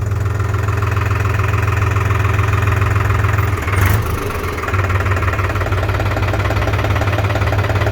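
A New Holland TT3.50 tractor's three-cylinder engine idles steadily and loudly up close, with a low throbbing hum and a brief surge near the middle before it settles back.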